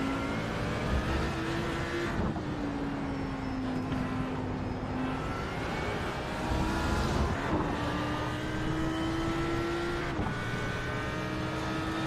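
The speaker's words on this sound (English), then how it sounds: "there's going to be a lap or so on board with Danilo Piazza" Onboard engine of a race car lapping Sebring in the iRacing sim during a 12-hour endurance race: a loud, steady high-revving drone climbing through the gears, with sharp upshifts every few seconds and no talk.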